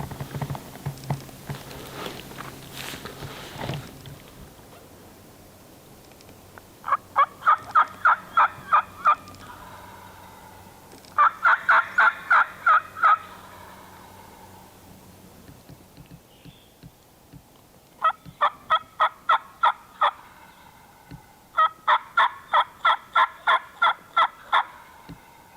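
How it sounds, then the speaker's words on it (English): Wild turkeys gobbling in a hunting setting near two creeks and a ridge, with a hen cutting at a gobbler; several loud rapid bursts of gobbles and sharp clucks come in repeated groups, moderately near, with no talk over them. "Did you hear that hen over here cutting at him?"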